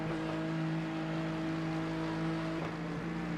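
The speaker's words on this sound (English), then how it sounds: "Okay, Reno, there's a car exiting the pits, heads up." A race car exits the pits at Bathurst in the iRacing sim, its engine droning in a steady tonal hum with a small shift near the end, fairly quiet and without talk.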